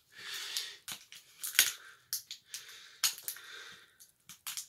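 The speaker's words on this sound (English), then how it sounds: "cut it open with my knife" A knife slices and tears into plastic packaging on a JoJo Siwa apple juice drink, with short crackling cuts and rustles close by.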